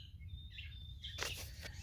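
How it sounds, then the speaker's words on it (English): Birds chirp around a camp on a rocky beach, a few thin high tweets and a brief burst of calls at moderate distance over a steady low background rumble. "enjoy the beautiful sounds of nature around me, as you can hear the birds."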